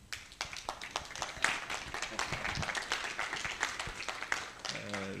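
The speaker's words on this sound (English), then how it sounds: "A round of applause for Hainga." Audience at a literature and language studies panel discussion applauding a panelist, a scattered clapping burst that thins out, with voices talking over it near the end.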